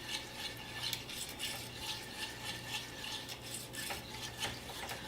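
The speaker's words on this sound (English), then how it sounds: "we're just going to continue to whisk this, and our cream cheese will start to melt into the rest of our ingredients" Cream cheese sauce is whisked in a pan over medium heat, giving quiet, quick rhythmic scraping and clinking strokes of a whisk against metal, steady throughout with no voices.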